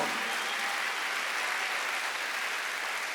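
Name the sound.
applause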